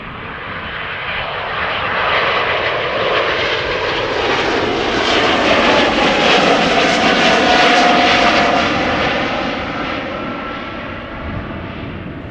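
An Embraer E195-E2 jet at Schiphol roars past close by, its loud broadband engine noise swelling and fading over about twelve seconds.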